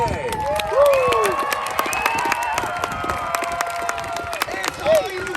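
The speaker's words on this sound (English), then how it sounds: "how about we give one huge round of applause to all these amazing drivers and trucks today" Crowd at a Sunday monster truck racing league show in Fishersville, Virginia, applauding and cheering, with dense clapping, whoops and whistles that hold steady for several seconds.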